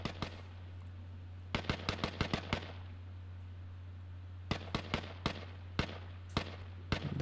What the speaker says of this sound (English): Those shots are pretty close by.